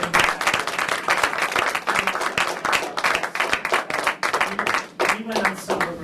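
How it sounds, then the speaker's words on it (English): Workshop attendees give a warm round of applause for the speakers, brisk, dense clapping from a modest crowd that holds steady across the whole stretch. "I just want to give a warm round of applause for our speakers today"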